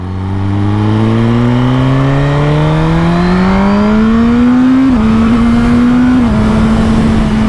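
A Suzuki GSX-R1000R motorcycle revs up through the gears, its loud engine pitch climbing smoothly, dipping briefly at two shifts, then holding a high, sustained whine.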